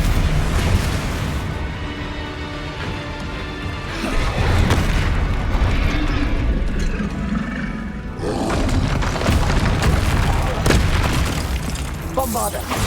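Booming Confringo fire spell explosions in the wizarding game Hogwarts Legacy, heavy roaring blasts layered over a dense battle with a voice speaking throughout, loud and close.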